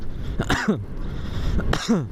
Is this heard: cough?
yes